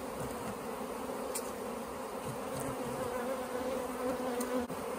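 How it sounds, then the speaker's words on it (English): A dense, steady buzz of many agitated honey bees in South Alabama in October, droning continuously close by with a few sharper passes near the microphone. "Man, these bees are a little fired up right now."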